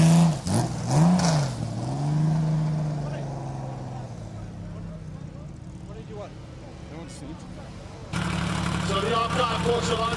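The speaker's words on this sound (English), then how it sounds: "Porsche's finest, Flat 6, do the talking" A Porsche flat-six engine at the start of a classic car hill climb, revving and rising in pitch, then settling into a lower drone before a louder burst of engine noise near the end.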